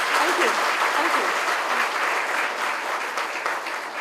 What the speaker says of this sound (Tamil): ஒரு நல்ல கைத்தட்டல் கொடுத்து நல்லா இருக்கும்